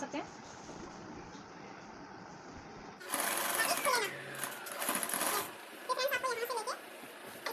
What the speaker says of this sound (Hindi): इसी सिलाई में एक बुट छोड़ के आप इसकी डबल सिलाई लगानी है आपको।